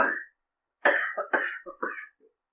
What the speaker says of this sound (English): It's smoker's cough, not Corona.